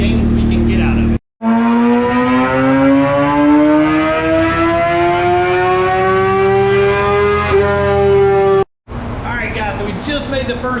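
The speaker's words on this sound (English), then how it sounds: "Just made the first pull on this thing." A Suzuki GSXR 750 with a TOCE exhaust making a dyno pull, its engine note rising in pitch steadily for several seconds to a loud scream, cutting off abruptly, then dropping back to a rough idle.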